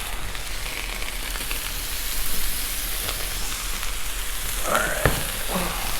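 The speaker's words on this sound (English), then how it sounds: "we're gonna let that fry up" Pre-cooked smoked sausage frying on a Blackstone griddle, a steady low sizzle and crackle running throughout, with a brief spoken word near the end.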